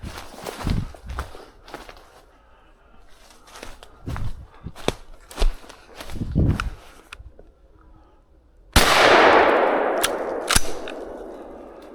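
Footsteps shuffle through woods during a squirrel hunt, then one loud, close gunshot booms and rings out with a fading tail, followed by a softer click.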